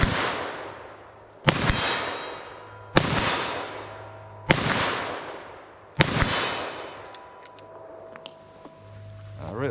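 A 2-inch snub nose .357 Magnum revolver firing 110 and 158 grain loads at an outdoor range: four loud, evenly spaced shots about 1.5 seconds apart, each with a long ringing decay.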